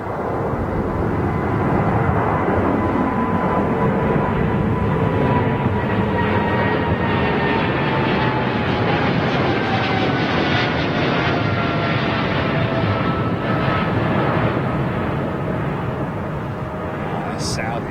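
A large airliner on its landing approach at London Heathrow roars loudly and continuously overhead, its engine noise swelling and then slowly shifting in pitch as it passes, with people talking nearby.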